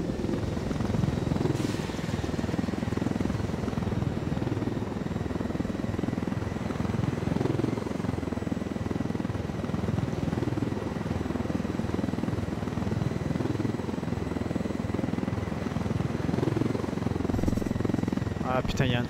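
Helicopter in the Ghost Recon Wildlands video game, a continuous rotor thrum and engine drone held steady throughout, with someone talking over it.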